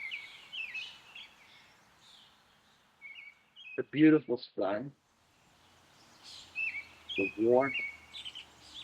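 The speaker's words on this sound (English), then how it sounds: "really want to enjoy the birds that are out" Birds chirp and sing outdoors at a spring meadow, with bright, scattered calls heard intermittently and fairly close, alternating with someone talking.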